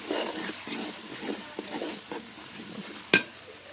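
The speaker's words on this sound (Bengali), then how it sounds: "আমি রসুনগুলো দিয়ে দিচ্ছি প্রথমে আজকে প্রথম তেহেরির জন্য রান্না করতেছি" Garlic cloves frying in hot oil for tehari give a steady soft sizzle with faint stirring scrapes, and a sharp metallic clink near the end.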